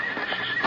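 Horse neighing as a radio drama sound effect in an old western town scene, a single loud whinny with faint hoof clip-clop behind it.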